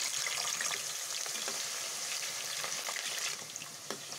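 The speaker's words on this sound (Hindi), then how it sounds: "और अब हम इसको तेल में हल्का सा गोल्डन सा फ्राई कर लेंगे" Halved potatoes fry in oil that was heated well first and then turned down to a slow flame. A dense, steady hiss of sizzling runs loud and unbroken, fading slightly near the end, with no voices.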